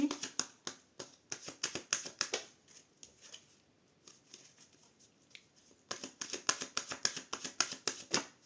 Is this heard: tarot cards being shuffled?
yes